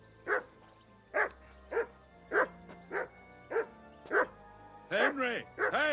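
In the video game Kingdom Come: Deliverance 2, Henry's dog barks in a regular string of sharp, fairly close woofs about once a second, ending in a few quicker, yelping barks.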